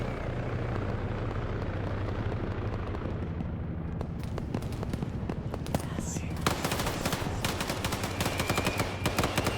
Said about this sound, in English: Friendly helo above.